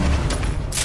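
A loud burst of sniper gunfire in a shooting video game, one dense blast filling the brief moment up close, with no talk over it.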